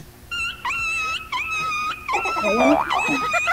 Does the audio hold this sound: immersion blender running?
no